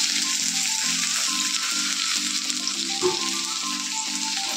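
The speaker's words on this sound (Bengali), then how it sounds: "পেঁয়াজ রসুন একটু ভেজে নেবো" Onion and garlic fry in a pan with a constant, close sizzle. A faint rhythmic undertone runs through it, along with an occasional stirring scrape, and no one talks.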